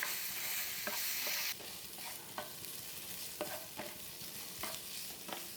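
Spices (oregano, chili flakes and dried fenugreek leaves) being stirred into a beef pizza topping frying in a pan: steady close sizzling with repeated scraping strokes of the spoon, no voices.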